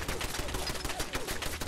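An automated turret blasts away in Fallout 4, loud rapid-fire shots pounding in a steady rattling stream for nearly two seconds, unaccompanied by speech.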